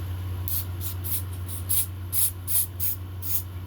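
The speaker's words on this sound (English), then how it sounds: "Do a little bit of spray" Nine short hissing spray bursts onto a wig in quick succession, close by, over a low steady hum.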